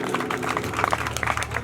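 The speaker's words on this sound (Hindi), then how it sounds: "जोरदार ताली बजाओ जी" An audience at a live folk song performance claps loudly and continuously, a dense burst of applause filling the short moment.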